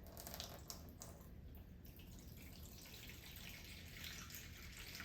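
Water poured into roti dough in a home kitchen, a faint continuous trickling pour heard close by, holding steady for several seconds with no voices over it.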